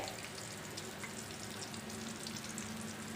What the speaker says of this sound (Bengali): তো বেগুনটাই ভাজি করতেছি